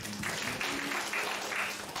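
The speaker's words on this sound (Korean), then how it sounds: "하나님께 영광의 박수 올려드리겠습니다." Congregation clapping together at a church high-school youth service, a brief burst of applause with a faint rhythmic pulse and no speech.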